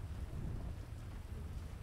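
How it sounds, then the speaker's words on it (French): Rain falls steadily during a thunderstorm with a low, continuous rumble throughout, and no voices are heard. "Il y a l'orage."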